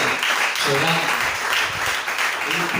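Church congregation applauding together in a sustained, fairly loud patter of clapping, with voices mixed in throughout.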